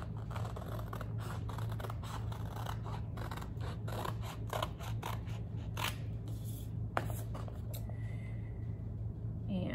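Scissors snip repeatedly through craft paper supplies, a steady run of close, crisp cuts and rustling scratches over a constant low hum, with no talking.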